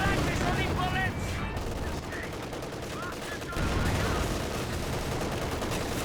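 Dense gunfire from Company of Heroes 2 rattles on without pause, machine-gun bursts layered over scattered shots and booms, with game voices calling out over the battle.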